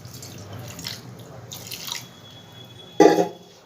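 Water poured into a mixer jar holding ground spices, a soft trickle early on building to a brief, louder splash near the end, heard close up with no talking.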